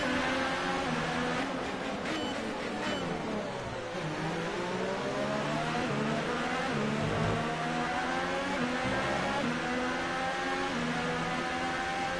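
A McLaren Formula One car engine in the F1 2018 video game, leaving the pits at Bahrain, a loud continuous high-pitched whine that rises and falls as it accelerates and shifts through gears, with other cars audible nearby.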